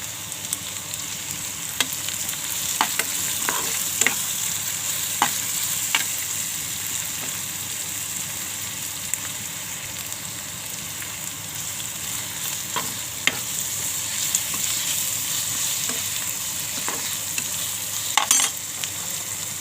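Curry leaves, chillies and asafoetida crackle in hot oil, a loud continuous sizzle with sharp intermittent pops and spatters, close and alone throughout.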